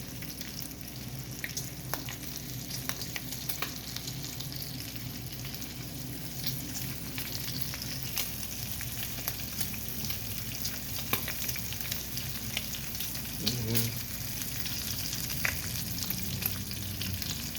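Bacon frying in a pot for a Fourth of July breakfast, heard as a continuous low crackling sizzle with occasional small pops and faint stirring, steady and fairly quiet throughout.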